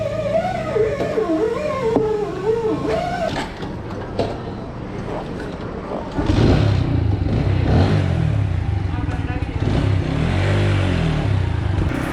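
Motorcycle ridden on a city street during a lockdown in Bashabo, with engine drone and road rumble growing louder midway, under some earlier talk.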